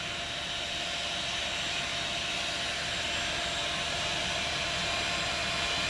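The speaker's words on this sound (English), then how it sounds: "I hope you can hear me over the vacuum. This is like being in a jet engine." A vacuum held close to greenhouse plant leaves, sucking whiteflies off their undersides, roars with a loud, steady, jet-like rush of broadband noise that holds unchanged throughout.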